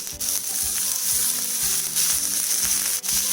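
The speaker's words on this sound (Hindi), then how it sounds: "हल्का सा इसको सौटे करेंगे।" Samosa filling ingredients sautéed in a little oil hiss with a steady bright sizzle, punctuated by soft scraping stirs of a spatula, close and continuous with no one speaking.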